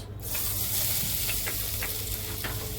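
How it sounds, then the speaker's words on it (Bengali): Green chilies and garlic fry in hot oil in a pan, a loud steady sizzle broken by several short scraping stirs close by. "তেলটা দেওয়ার পরে লঙ্কা ভাজা হয়ে গেছে, আমি রসুন দিয়ে দিচ্ছি 1 চামচ"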